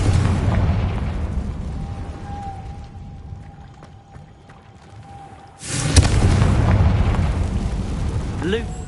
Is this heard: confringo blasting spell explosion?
yes